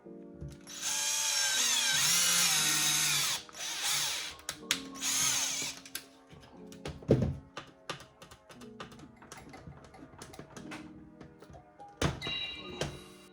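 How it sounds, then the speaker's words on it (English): Power drill whirs loudly for a few seconds while boring a hole during a prop wand kit install, then cuts out, followed by scattered clicks, taps and clunks of handling parts. "you can take a drill to drill a hole instead"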